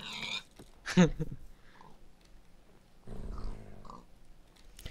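A pet dog in the Minecraft video game gives a short, loud burst of yelping or barking, then quieter rustling and a second softer flurry of dog noises.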